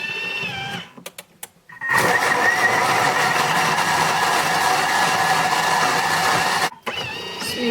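A food processor whirs at speed 8 as it grinds raspberries for a white chocolate bavarois, a loud steady motor roar lasting about five seconds, bracketed by quieter clicks and handling before it starts and after it stops.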